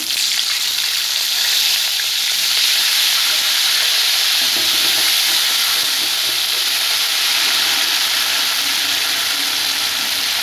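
Pangas fish curry sizzling and frying steadily in a pan as a small splash of water goes in, a loud continuous hiss with steam filling the whole stretch, no voices.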